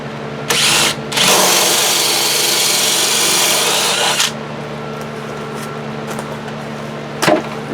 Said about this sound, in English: I think it's a 1-inch hole saw is what I'm using for my drain